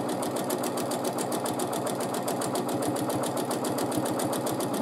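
A sewing machine stitches steadily through free-motion quilting, its needle hammering in a fast, even rhythm that stays loud and close for the whole stretch, with no voices.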